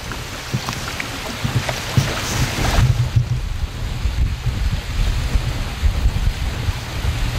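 Wind slaps and breaks up thin leftover pond ice in early spring, making a loud, close, continuous pattering and crackling much like rain, with uneven surges and small splashy knocks.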